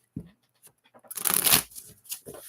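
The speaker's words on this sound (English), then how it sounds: "I've been shuffling this pretty much the whole time we were talking" A close riffle shuffle of tarot cards, building into a dense rustling burst before trailing off into a few softer flicks.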